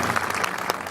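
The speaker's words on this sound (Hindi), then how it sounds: "उनके लिए तो ताली बजाते हैं" Steady applause from an audience at a rural government panchayat gathering in Madhya Pradesh, a dense continuous clapping that fills the whole moment with no voices over it.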